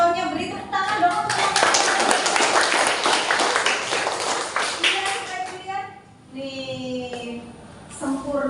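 Classroom applause in a lesson on differentiated learning, a burst of many hands clapping for about five seconds that fades out, followed by a teacher talking.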